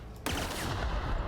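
A weapon in The Outer Worlds opens fire with a sudden loud crack that rolls straight into a dense, sustained burst of shots, brief and close, with no talking.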